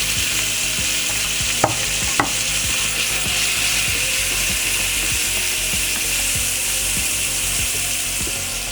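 Swedish meatballs fry in butter in a hot pan, giving a loud, dense, continuous sizzle with rapid spitting crackles and a couple of sharp clanks early on.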